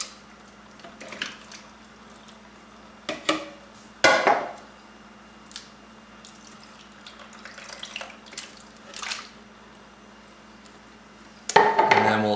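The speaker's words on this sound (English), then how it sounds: "now we're going to go ahead and add our tomatoes" Tomatoes go into a cooking pot of BBQ sauce, heard as scattered wet squishes, soft plops and occasional metallic clanks against the pot, with louder knocks near the end and no talk.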